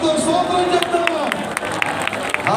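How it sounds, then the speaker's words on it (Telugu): Church congregation at a prayer hall dedication in Lemalle, India, applauding in a burst of crowd clapping mixed with voices and general hubbub, close and fairly loud. "అభిషేకిస్తున్నందుకై మరొకసారి చప్పట్లతో స్తోత్రం చెప్తాం"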